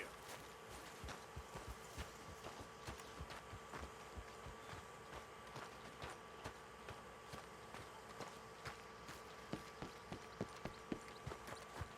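Horse hooves clip-clop steadily in Red Dead Redemption 2, a soft repeated patter of footfalls that continues throughout, with buzzing insect-like ambience underneath and no talking.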